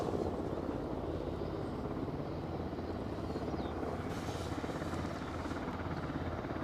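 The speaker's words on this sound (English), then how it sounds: "I can hear another chopper coming as well" A helicopter approaches at Aberdeen airport, its steady rotor thrum and engine whine holding loud and continuous throughout, with no speech.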